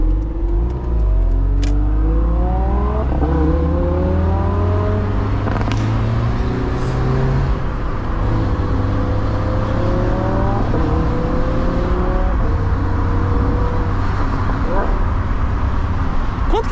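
Mazda Miata MX5 engine revving hard as the car accelerates through several gears, each climbing whine dropping at the shift, loud and close from inside the cabin while someone talks over it.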